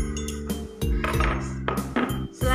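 Two metal spoons clink and rattle against each other, several sharp close knocks and scrapes in quick succession with no talk.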